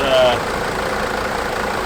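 A Mercedes CLK engine idles steadily after carb cleaner got into it, giving a constant, loud, even rumble throughout.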